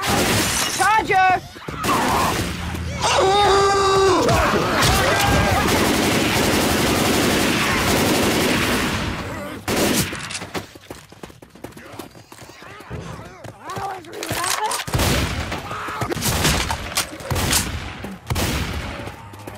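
Gunfire and breaking glass in Left 4 Dead 2 as survivors fight through a level on Advanced difficulty, bursts of rapid shots and crashes in dense layers, with players talking over the action.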